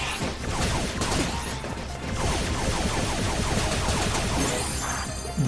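Rapid shooting at a robot in the video game Mighty No. 9, a dense stream of clattering mechanical shots and small crunching hits, continuous and fairly loud throughout.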